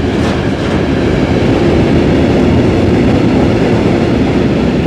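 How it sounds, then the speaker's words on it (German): An RB50 regional train pulls into a platform at Braunschweig main station at night, a steady loud rumble of rolling wagons with faint wheel clatter and no talking. "Da ist die RB50 eingefahren, nach Hildesheim."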